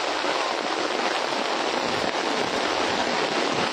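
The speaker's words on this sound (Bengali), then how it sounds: "প্রচুর পরিমাণে বৃষ্টি হচ্ছে" Heavy rainfall during a North Bengal downpour near Islampur, a dense and loud unbroken hiss of rain that lasts the whole stretch with no voices.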